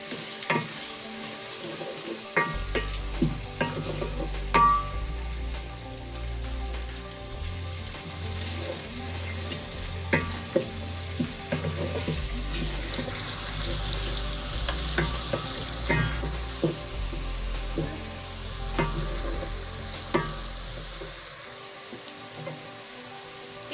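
Onions sizzle in hot ghee in a pan, a loud steady frying hiss broken by the clinks and scrapes of stirring, with no voices over it.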